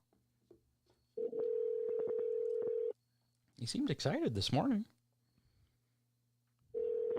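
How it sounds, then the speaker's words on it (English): A telephone call rings out on the line with a steady, long electronic ringback tone. Two clear rings are separated by a few seconds of close talk, and someone speaks between them. "It's fun listening to the phone ring"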